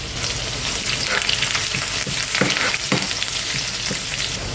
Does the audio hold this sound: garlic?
yes